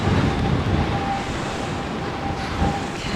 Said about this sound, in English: Oh, it is breezy now.